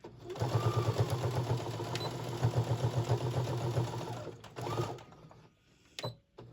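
A sewing machine runs fast in one sustained stitching burst while back stitching a kitchen towel, its needle chattering rhythmically, then gives two short follow-up bursts before stopping.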